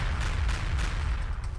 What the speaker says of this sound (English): There's a lot of explosions going on, and I very much like it.